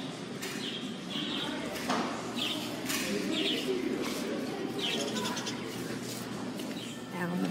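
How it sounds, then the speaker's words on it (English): Pet store birds, parrots among them, calling and chirping in short bursts over steady store background noise, with people talking nearby. "Oh, the parrots."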